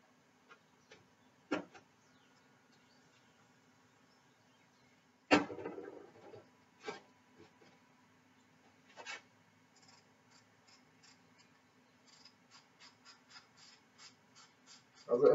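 A freshly cleaned and serviced bicycle freehub ticks sharply as the hub is spun by hand, in scattered bursts of rapid clicks separated by quiet gaps.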